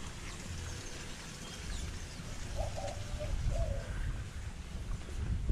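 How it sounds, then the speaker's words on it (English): Pigeons cooing at a Cayman Islands turtle centre wildlife encounter, a few soft low coos rising midway through over a steady outdoor rumble and background noise. "A lot of pigeons."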